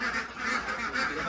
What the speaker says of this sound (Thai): นี่เป็ดลูกผสม